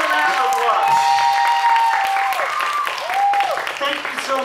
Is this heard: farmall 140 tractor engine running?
no